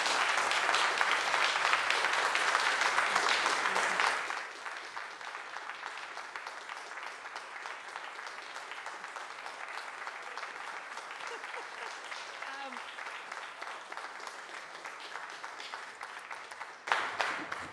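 City council meeting audience breaking into applause, loud dense clapping at first that drops to a lower sustained level and continues through most of the stretch, with a brief renewed burst near the end.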